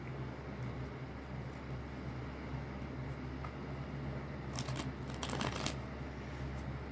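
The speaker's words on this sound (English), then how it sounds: "One more shuffle." Tarot cards are shuffled in a few quick riffling bursts near the end, over a steady low background rumble.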